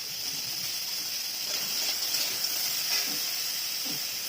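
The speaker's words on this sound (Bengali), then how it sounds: "কাঁকড়াগুলো হলুদ লবণ মেখে রেখেছি আগেই। এগুলো এখন ভাজা ভাজা করে নেব।" Crabs coated in turmeric and salt frying in hot oil in a wok, a steady close hiss and sizzle with a few faint soft knocks partway through.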